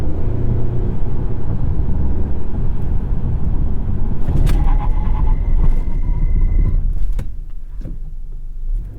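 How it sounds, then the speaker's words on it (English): A 2021 Acura TLX slowing from 60 to 0 in a braking test on a dirt-lined stretch, heard from inside as loud, steady road and engine rumble that drops away sharply near the end, with faint clicks and tones. "we'll do a 60 to 0 braking test and try to straddle these dirt lines"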